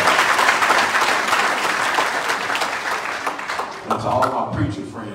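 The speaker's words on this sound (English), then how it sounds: "Let's give them a round of applause." A Baptist church congregation at a pastor's installation service breaks into sustained, loud applause that fills the room, tapering near the end as voices rise over the fading clapping.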